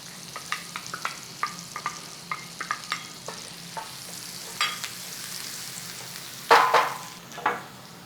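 Garlic sizzling gently in butter in a pan over low heat, a soft steady fry broken by quick stirring scrapes and clicks, with a brief louder burst of spitting near the end.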